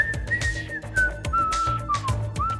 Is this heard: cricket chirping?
no